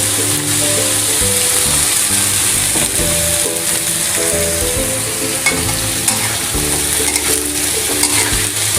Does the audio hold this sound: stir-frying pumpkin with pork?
yes